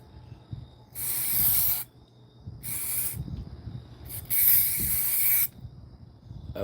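Spray paint hisses onto elevator doors in three bursts, each a second or so long, with a faint click and muffled handling noise in the gaps.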